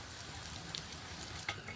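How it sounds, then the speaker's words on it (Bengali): Potato paratha frying in plenty of white oil, a steady low sizzle with faint crackles and a couple of brief spatters, close and alone without voices. "আমি একটু বেশি তেল দিয়ে ভাজছি।"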